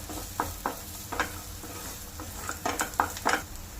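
Quinoa is stirred and roasted in a pan, giving a steady soft sizzle under repeated scraping strokes and light clinks, close and moderately quiet.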